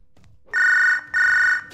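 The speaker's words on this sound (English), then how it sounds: "It's like the phone's right next to me." A telephone in MDickie's Wrestling Empire video game rings in two loud, close electronic trills separated by a brief gap, with faint game noise underneath.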